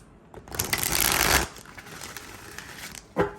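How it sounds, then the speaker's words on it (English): Tarot cards are riffled and shuffled up close, a dense papery flutter that builds then stops, followed by a brief second ruffle near the end. "so let's see. One more shuffle."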